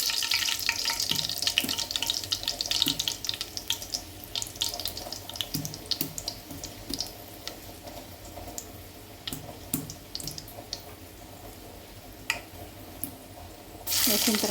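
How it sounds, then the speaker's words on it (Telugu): Two dried red chillies frying in hot oil in a home kitchen while cooking an onion and egg curry, giving a steady soft sizzle and crackle with scattered pops throughout, fairly faint, while someone talks over it. "ఎండుమిర్చి అనేది వేస్తున్నాను."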